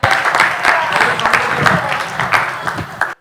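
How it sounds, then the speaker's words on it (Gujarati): An audience claps loudly for a donor family at a community ceremony, a dense burst of many hands lasting a few seconds before cutting off abruptly, with a faint murmur of voices beneath. "એકવાર જોરદાર તાળીઓથી આ દાતા પરિવારને વધાવીએ"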